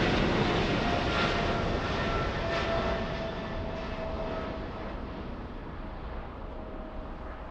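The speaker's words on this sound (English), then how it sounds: "Lufthansa taking off. Let's go for big 777." A Lufthansa Boeing 777 takes off at LAX with a loud, continuous broadband jet roar that holds steady and then eases off slightly as it goes.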